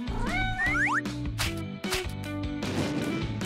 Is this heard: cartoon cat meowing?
yes